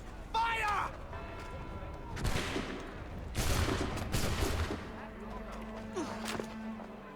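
Musket volley fire in Assassin's Creed 3, several loud, sharp bursts of massed shots a second or so apart, rolling and echoing outdoors, mixed with game sounds and a voice nearby.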